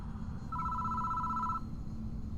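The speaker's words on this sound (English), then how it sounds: "The phone starts ringing out of nowhere." A telephone rings inside the horror video game Spirit Hunter: Death Mark, a steady electronic tone that sounds for about a second against a low, droning ambient background.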